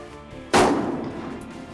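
A single loud gunshot cracks on an army shooting range, sharp and close, followed by a brief decaying boom and echo.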